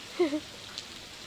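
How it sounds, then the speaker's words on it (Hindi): Monsoon downpour in an Indian village gives a faint, steady rain hiss across the whole moment, with a brief tonal call near the start. "वर्षा, मूसलाधार वर्षा हो रही है।"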